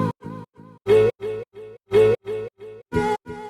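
Micro-chopped music sample for a boom bap beat, treated with EQ and delay: short tonal stabs play in a rhythmic pattern, each with a quick repeat tail, loud and alone without talk.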